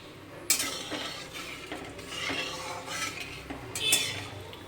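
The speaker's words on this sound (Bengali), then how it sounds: "দেখো আমি কড়াই তেল দিয়ে দিয়েছি, আর আস্ত গরম মশলা তেজপাতা দিয়ে দিয়েছি। এইটা এখন গরম হচ্ছে।" Whole garam masala and bay leaves heating in oil in a wok, with a soft sizzle under sharp metal-on-metal scrapes and clinks of a spatula stirring, close by and without talk.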